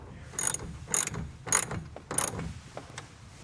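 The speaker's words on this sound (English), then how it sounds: "Come back with a ratchet and a socket and tighten it down." A ratchet and socket tighten a bolt while a Pace Edwards Switchblade retractable hard tonneau cover is fitted to a truck. Four or five sharp bursts of ratcheting clicks come at a steady rhythm, close and clear, with no talking.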